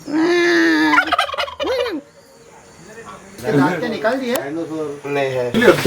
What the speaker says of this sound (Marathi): ह्या साईडला पक्ष्यांचा आवाजसुद्धा येत आहे